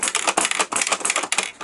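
Rapid clattery keypresses on a TOMY Tutor computer keyboard, a quick uneven run of crisp taps up close with no talking.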